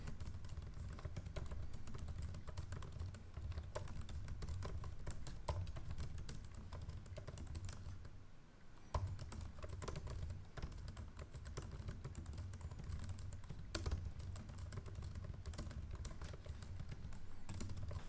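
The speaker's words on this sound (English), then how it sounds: "This is a typing test of the MacBook Pro." Continuous typing on a MacBook Pro 14 laptop keyboard, a steady run of soft, quick key clicks with a brief pause midway, close and clear with no talking.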